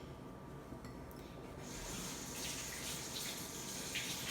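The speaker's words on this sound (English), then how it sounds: "I'm gonna wash my hands" A kitchen tap runs while hands are washed before cooking empanadas, a steady hiss of flowing water that swells louder about halfway through, close and alone with no voices.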